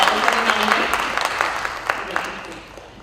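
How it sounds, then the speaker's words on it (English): A film festival audience claps in a short, fading round of applause, individual claps standing out as it thins toward the end, with a voice briefly audible underneath. "Can we have another round of applause for his national award for best essay"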